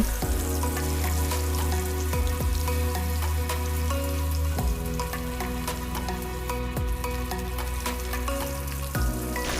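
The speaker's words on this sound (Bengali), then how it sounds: "মাছগুলি তেলে ভেজে নেব।" Rohu fish pieces rubbed with salt and turmeric fry in hot oil in a kadai, giving a continuous soft crackling sizzle with a sustained tonal hum behind it.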